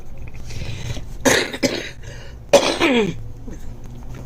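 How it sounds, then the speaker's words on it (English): A few harsh, close coughs in two bursts, with a throat-clearing rasp, against quiet background noise. "Yeah, this cough has been so fun."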